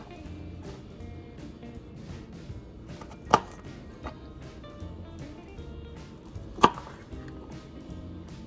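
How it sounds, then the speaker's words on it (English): A knife slices peeled garlic cloves lengthwise on a board, giving two sharp, distinct cuts several seconds apart against a quiet background, with faint handling sounds between them. "We're going to go ahead and slice them lengthwise down the middle."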